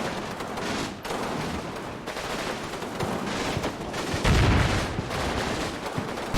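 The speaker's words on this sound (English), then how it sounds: "The machine guns over here start putting a bit of fire" Sustained machine gun fire rattles through a WWII tank battle video game, dense bursts layered with explosions and one heavier blast near the end, with no voices.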